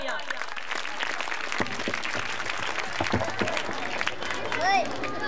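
Applause from an audience at a theatre performance for flood-affected children fills the room, dense clapping with crowd murmur, steady throughout and fairly close.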